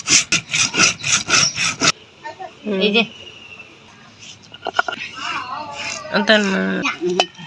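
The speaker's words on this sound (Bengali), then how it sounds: "জিরা গুলো বেটে নেব" Rapid rhythmic grinding strokes of cumin on a stone, loud and close, then a pause followed by people talking with scattered scraping.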